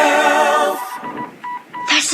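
Telephone dialing tones from a secret phone, a few short, evenly pitched beeps following a louder harmonic sound, with a brief tone burst near the end.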